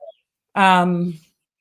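Young chicks in a coop give a single loud, harmonic peeping call lasting about half a second, close by, preceded by a brief faint chirp.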